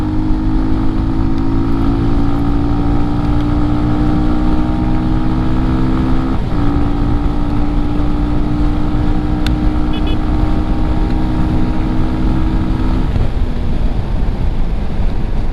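A Benelli TRK 251 250cc motorcycle engine hums steadily while riding in fifth gear at low speed, a continuous droning tone with a brief dip midway, under constant wind rush, with no voices.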